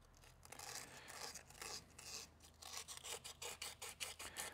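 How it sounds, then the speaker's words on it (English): Coarse 40 grit sandpaper is worked over the surface of a carbon bicycle frame in quick, uneven strokes, giving a dry, raspy scratching sound that is quiet and close, with no talk. "you want to use a particularly coarse sandpaper to rough up this surface"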